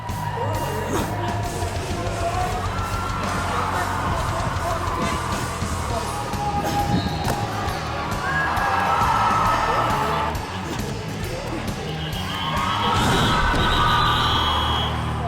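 A sold-out roller derby crowd of about 500 people cheers, whoops and yells in a continuous roar, swelling in loud waves with scattered shouts and a voice talking underneath.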